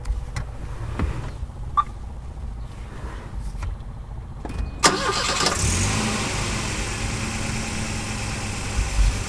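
A car fitted with an immobilizer sits quiet for a few seconds, then its engine cranks and catches near the middle and settles into a steady, close, medium-pitched idle that runs to the end.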